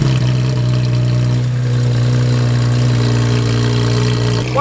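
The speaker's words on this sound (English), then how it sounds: "the GT3 RS sounds ridiculously good" Porsche GT3 RS idling at a car week street gathering of supercars, a loud steady low engine drone holding even throughout, with a brief blip near the end.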